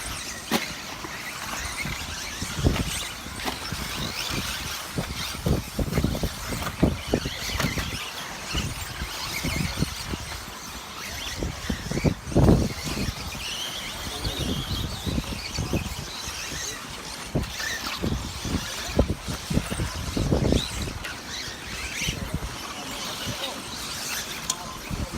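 Radio-controlled 2WD racing cars buzz around an outdoor track during a Schumacher Racing 2WD final, their high whining motors rising and fading as they pass, with wind noise and a race commentator talking throughout.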